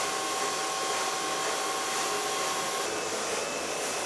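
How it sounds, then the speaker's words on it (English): A hair dryer blows on a pixie cut while a medium brush lifts the hair, a loud continuous airy roar held steady from start to finish with no one talking. "Start blow drying with a medium brush and just applying some volume"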